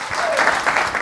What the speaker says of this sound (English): Give a round of applause to Kyna, please.